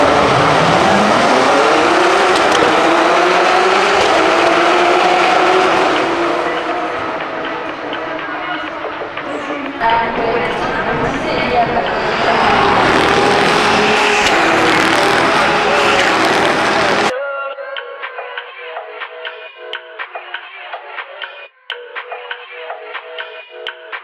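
Porsche Carrera Cup race cars at the Magny-Cours circuit scream past at high revs, loud and close, engine pitch sweeping as they pass, before cutting to a quieter, thinner stretch with faint ticking.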